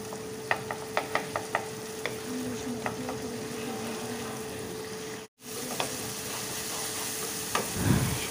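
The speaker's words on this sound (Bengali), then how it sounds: "রসুনের পেস্টটা বেশিক্ষণ ভাজা যাবে না, দুই এক মিনিটের মতো ভেজে নিতে হবে" Garlic paste frying in a pan for a garlic prawn dish gives a steady close sizzle. Sharp taps of stirring ring out early, the sound cuts out briefly, then the frying resumes.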